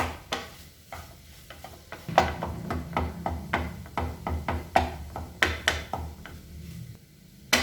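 Crumbly scrambled egg (mutta varattiyathu) stirred and broken up in a pan, with repeated sharp spatula taps and scrapes in an uneven rhythm over a low sizzle, close and clear with no talking.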